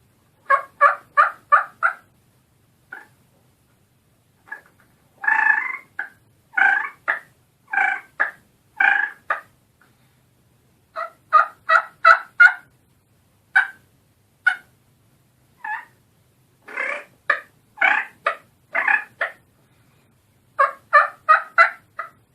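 A turkey mouth call imitates soft rolling purrs broken by short clucks, given in quick clustered bursts separated by pauses, close and clear with no talking.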